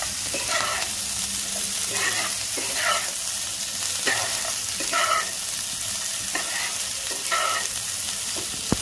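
Onions cut into boat-shaped wedges fry with other vegetables in a pan for chilli chicken, a constant close sizzle broken by regular scraping stir strokes about once a second.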